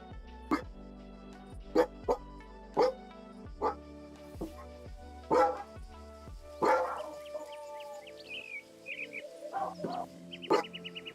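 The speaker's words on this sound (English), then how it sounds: "Sorry about the dogs barking" Dogs barking indoors at home: a series of sharp, separate barks spaced about a second apart, loud and close, then softer yips and chirpy squeaks near the end, with bits of speech mixed in.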